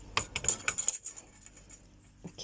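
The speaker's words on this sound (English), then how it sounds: "so let's just use the scissors because it's thin," Scissors work at thin craft wire, giving a quick series of bright metallic clicks and snips up close, then a quieter rustle of handling.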